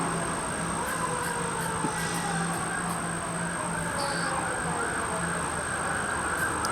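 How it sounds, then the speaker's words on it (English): A fire truck siren wails in a rising and falling pattern, moderately loud and sustained, heard outdoors over a steady background hum. "Fire truck."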